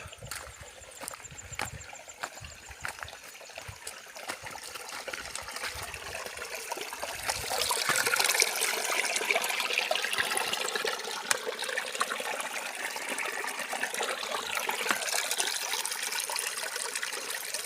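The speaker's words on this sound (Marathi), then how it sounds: "पाण्याचा आवाज आपल्याला येत असेल" A stream flows steadily beside a forest route through the Shoolpani jungle on the Narmada parikrama path, a continuous trickling wash that swells louder about halfway through and then holds, with no voices.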